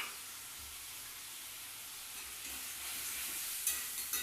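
Tamarind water poured into simmering dal for sambar, giving a steady soft sizzle and hiss that swells slightly toward the end, with a few faint clinks near the close.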